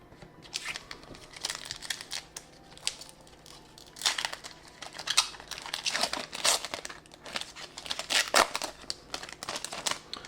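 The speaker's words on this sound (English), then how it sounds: "I don't understand how people have trouble opening these packs" Pokemon TCG Journey Together booster pack wrappers crinkle and tear open in repeated bursts, close and fairly loud, with crisp crackling foil sounds between short pauses and no talking.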